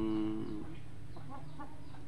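A fighting rooster clucks a few times close by, short throaty calls over a quiet background.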